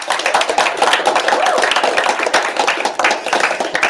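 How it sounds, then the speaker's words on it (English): Loud, close applause for speakers at a WarsawJS JavaScript meetup, a dense patter of hands clapping in a room that holds steady for the whole stretch without voices. "great applause for the speakers today"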